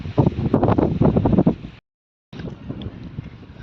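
Strong wind by the sea at night buffets the microphone in loud, roaring gusts, cutting out briefly before the blustery noise returns.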